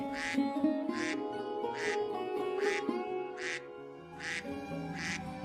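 A cartoon black duck quacks about seven times in an even, repeated rhythm over a steady musical backdrop.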